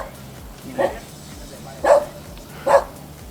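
Three short, sharp dog barks spaced about a second apart stand out over steady low background noise, close and fairly loud.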